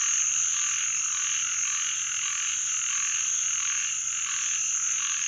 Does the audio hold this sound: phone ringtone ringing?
no